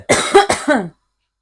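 Several quick, harsh coughs in a row, close and loud, then silence.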